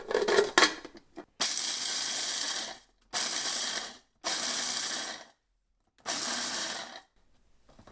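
Philips Multichopper pulsing through nuts: four loud, whirring bursts of about a second each, separated by short silences, after some rattling and clicking as it is set up.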